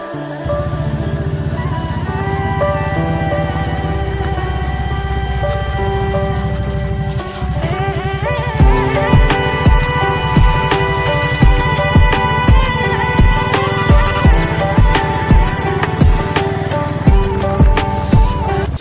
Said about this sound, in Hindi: हम लोग निकल चुके हैं बाइक पर